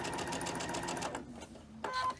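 Sewing machine stitching a quilt block, a quick run of rapid mechanical stitches that pauses briefly before a short final burst, close and fairly quiet.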